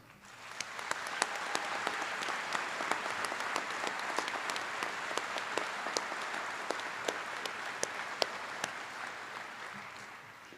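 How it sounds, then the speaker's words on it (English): Sustained applause from a sizable audience at a high school graduation, steady clapping at an even level throughout, with a few sharper individual claps standing out. "I'd like all of us to give you a round of applause."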